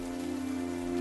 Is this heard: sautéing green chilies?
no